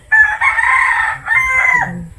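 A rooster crows nearby, one loud, clear cock-a-doodle-doo with a brief break partway through, rising above a faint background.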